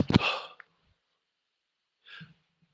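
A single sharp, close sneeze bursts out at the very start, followed by a short breath and a faint sigh a couple of seconds later, otherwise quiet.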